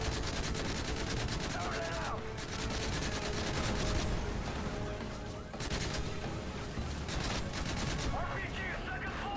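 Sustained bursts of automatic gunfire and scattered shots in a Modern Warfare 3 campaign firefight, loud and continuous with brief pauses, talk mixed in over the shooting.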